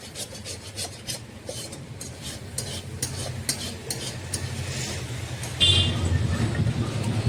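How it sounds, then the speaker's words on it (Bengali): A paste of poppy seed, mustard and ginger being stirred into water by hand, a steady wet rubbing and swishing that grows louder toward the end. "শস্য পোস্তটা আদা বাটাটা আমি একসঙ্গে জলে আমি হাত দিয়েই করছি"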